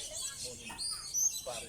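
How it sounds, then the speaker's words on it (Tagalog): Gilansiyang black birds chirp from an avocado tree, a flurry of thin high tweets and calls close by, partly overlapping someone talking. "kung makikita natin yung mga ibon na yan, madaling dumami"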